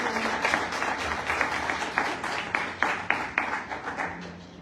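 Applause from an audience at the presentation of an autobiography, with several individual claps ringing out above a softer wash of clapping that gradually fades.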